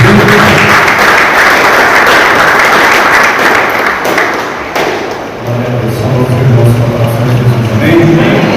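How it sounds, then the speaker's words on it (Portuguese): A church congregation at a Sunday communion service claps loudly and continuously for a visiting elder, the sound full and close, with some thumps and a brief dip midway. "irmãos, aplaude bem em nome de Jesus"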